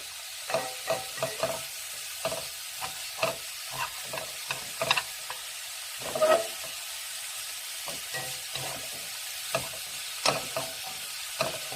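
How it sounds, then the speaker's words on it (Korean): Thin burdock strips stir-frying in oil over medium heat, a soft continuous sizzle broken by frequent quick scraping and tossing strokes of a spatula in the pan. "웅채를 한번 볶아주세요. 이 골고루 기름에 묻어지게"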